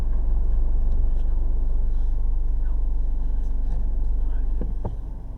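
A car reverses slowly into a parking space, its engine a low, steady, close rumble that eases and fades as the vehicle comes to rest.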